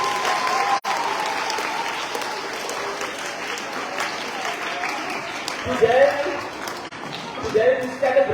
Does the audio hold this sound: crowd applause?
yes